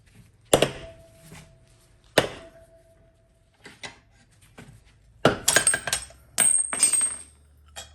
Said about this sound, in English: As a driving tool, I'm going to use the same deep 18mm socket to drive it out all the way